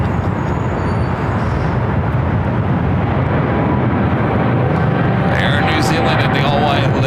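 An Aeromexico Cargo plane in all-white livery takes its takeoff roll down runway 25R at LAX. A loud, steady jet roar with broad rumble carries under constant wind-like noise, and a brighter whine rises near the end.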